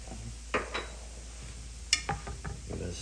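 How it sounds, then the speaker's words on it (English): A spoon stirs a pot of milk with bay leaves and mustard powder on the stove. There are a few faint metallic clinks and scrapes against the pot over a low steady hum, sparse and quiet. "Give it a stir."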